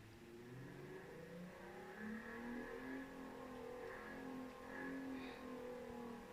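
A Volkswagen car engine in a racing video game revs and hums steadily, rising and falling in pitch as it accelerates, with a continuous, fairly quiet drone.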